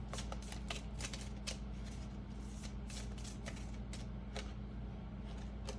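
Tarot cards being shuffled and drawn, a steady run of crisp papery riffles and flicks close up, with soft clicks repeating throughout and no talking.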